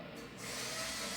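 A power tool drives a bolt into a headlamp panel on a supercharged Honda NSX, making a short close whirring burst that ramps up after a brief quieter start, with no talk.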